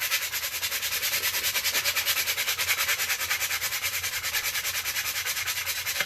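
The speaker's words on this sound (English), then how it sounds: "Trying to sand off the serial number down there." Steady back-and-forth rasp of 150-grit sandpaper being worked over a plastic Nerf gun body, a close, continuous rhythmic scrubbing that pulses evenly for several seconds with no talk.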